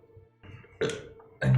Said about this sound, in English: Did he burp like that?